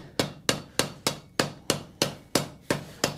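Hammer blows on a forge-welded collar as the piece hangs over the edge of an anvil, eleven sharp ringing strikes in an even, steady rhythm, close and loud with no talking.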